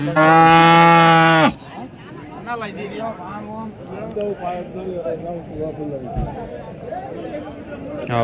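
Cattle at a Punganur cow market give a loud, sustained moo in the opening second and a half, followed by a busy market background with people talking.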